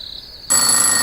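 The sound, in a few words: telephone ringing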